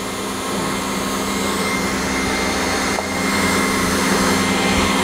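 An electric mixer drones loud and steady, mixing garlic cheese bread dough, with a constant whirring hum that barely changes.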